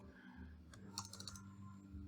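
A short burst of quiet clicks from keys tapped on a computer keyboard, faint and close over a low steady hum.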